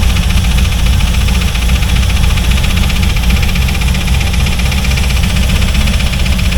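A C4 Corvette engine with worn-out connecting rods idles loudly up close, its running sound laced with a constant metallic rattle and knock.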